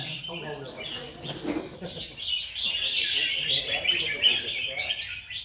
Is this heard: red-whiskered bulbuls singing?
yes